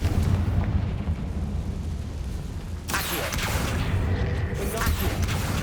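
A Confringo fire spell bursts in Hogwarts Legacy, a rumbling explosive boom over steady game ambience with a sharp crackling impact partway through.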